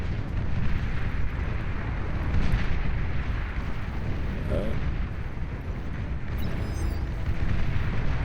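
A base explodes in the real-time strategy game Beyond All Reason during an 8v8 deathmatch, a long continuous roaring rumble of blasts and debris that stays dense and loud throughout with a few brief higher crackles.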